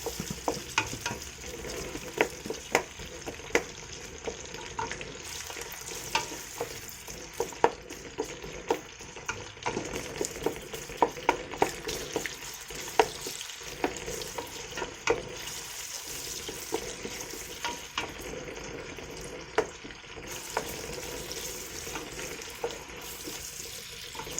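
Onions frying in a pan as they are stirred, with a steady close sizzle and repeated scraping clicks of the spoon throughout, no talking.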